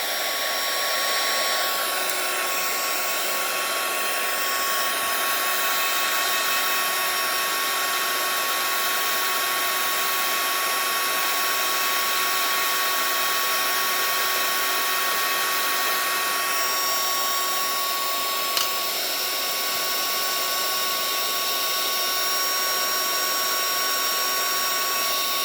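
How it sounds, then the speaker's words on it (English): A heat gun blasts hot air over a watercolor pencil painting of a mermaid's tail, a loud, steady, unbroken whine and rush of airflow that holds evenly throughout. "So let's give it a blast with the heat gun here."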